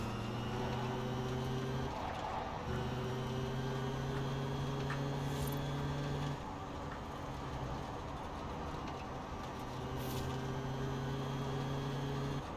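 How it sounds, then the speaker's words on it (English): The Volkswagen I.D. R Pikes Peak electric race car in the racing game Forza Horizon 4 gives off a steady, eerie motor whir with sustained tonal hums that shift in pitch over constant road noise. "It's just so eerie driving a car with just that whirring noise the entire time"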